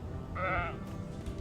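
Sheep bleating inside a horror video game, a single wavering bleat lasting under half a second over a steady low game ambience.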